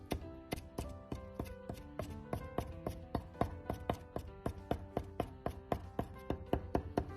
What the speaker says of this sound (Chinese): 改刀切碎。